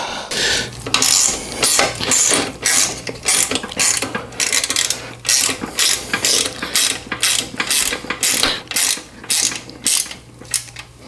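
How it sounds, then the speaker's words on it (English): A ratcheting wrench works bolts while a Harbor Freight Hercules miter saw stand is assembled, giving rapid, loud, close metallic clicking in repeated bursts with brief pauses between strokes and no talking. "That ratcheting wrench does help."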